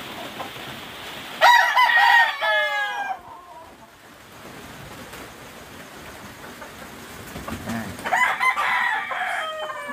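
Gamefowl stags crow on a farm, one loud close crow followed later by another trailing in, over steady outdoor background noise with no talk.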